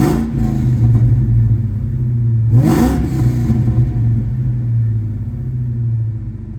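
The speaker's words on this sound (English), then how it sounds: "See if you guys can hear this rev." A 2003 Ford Mustang SVT Cobra "Terminator" with 28k miles idles with a deep, loud rumble. Its engine is blipped once into a short rev that rises and falls before settling back to a steady idle.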